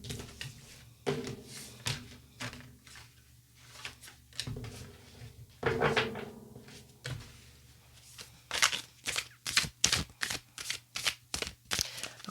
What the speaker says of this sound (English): We'll shuffle the cards and then I will start.